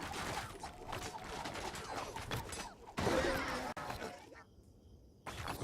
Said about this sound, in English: Realign the damn catapult, please. Thank you. And then, pretty please fire.